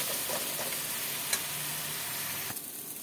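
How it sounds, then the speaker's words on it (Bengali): Ground spices sizzle steadily in a pan with a little water while being stirred for a dhaba-style mutton liver dish, a continuous close frying hiss with occasional scrapes and clinks and no voices. "মশলাটাকে ভালো করে কষাবো।"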